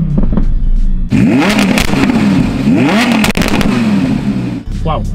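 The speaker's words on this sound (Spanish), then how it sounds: "Wow, el petardeo es brutal, ¿no?" An Audi R8 V10 Plus with its naturally aspirated V10 in Dynamic mode and exhaust valves open revs hard and loud up close, with rising and falling engine sweeps punctuated by sharp crackling exhaust pops.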